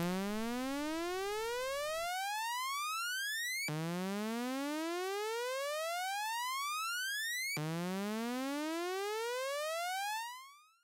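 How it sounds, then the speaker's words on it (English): Synth oscillator with its pitch swept upward four octaves by a repeating envelope, giving three rising buzzy sweeps, each several seconds long and separated by short gaps, loud and steady with no voice. "Now we're going to feed the output of envelope 2 into the pitch of oscillator 1. This is 4 octaves, 48 semitones."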